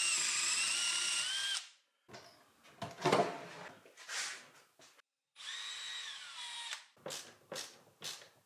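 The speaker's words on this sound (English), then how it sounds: "I'm going to need to allow for that with my mounting holes, which I will drill oversized" Power drill boring oversized mounting holes through a wooden desk top, loud close bursts of whining drilling stopping and starting several times with short pauses and handling clatter between.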